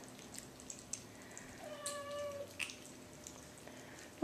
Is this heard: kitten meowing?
yes